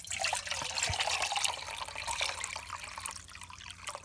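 Water poured from a water bottle into a camping pot on a hillside moor, a steady close trickle and splash that runs throughout, easing slightly toward the end.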